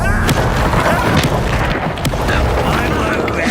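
A Bombarda spell blast in Hogwarts Legacy makes a loud, heavy boom with rumbling, crackling debris, set against other dense combat noise.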